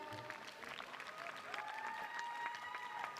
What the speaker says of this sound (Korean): 여러분 큰 왈츠 박수 주십시오